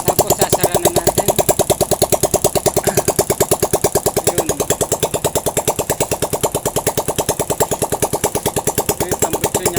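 A motorcycle engine freshly back from a top overhaul runs at a fast, even idle with a close, loud chugging pulse, and a brief word is spoken over it.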